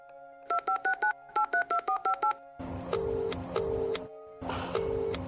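Telephone keypad tones beep in two quick runs of short, evenly spaced presses, then a line-signal pattern follows of repeated long tones with brief gaps, loud and close without talk.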